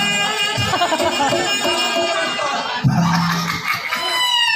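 Chickens cluck and squawk in a busy outdoor setting in Betawi comedy theatre, with harmonic calls layered over one another and a sharp burst partway through.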